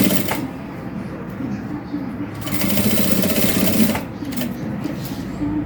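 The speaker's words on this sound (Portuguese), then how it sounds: "posiciono o zíper, posiciono o meu forro e venho e faço a minha costura" A sewing machine stitches a zipper and lining into a crossbody bag in rapid mechanical bursts, starting and stopping with short pauses between runs, close and clear, with someone talking briefly over it.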